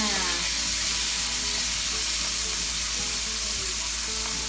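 Rabbit meat cooks in a pan with a steady, close sizzle and bubbling under a constant low hum, continuous without a break. No one speaks.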